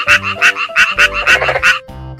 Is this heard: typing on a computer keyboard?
no